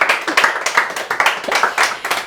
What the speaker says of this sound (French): Un tonnerre d'applaudissements pour Suzanne encore une fois.